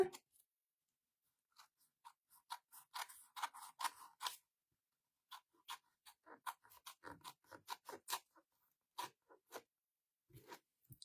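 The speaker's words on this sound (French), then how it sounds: "je vais venir découper ce qui dépasse" Scissors snip excess paper from the edge of an art journal page, with quick clusters of close, crisp cuts separated by brief silent pauses across the span.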